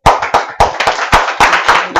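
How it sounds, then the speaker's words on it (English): A small group clapping during a medical coaching quiz session, several loose, uneven bursts of hand claps close by, loud and sharp, with no talking. "Please give big clap."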